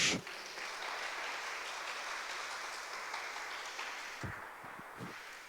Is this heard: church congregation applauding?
yes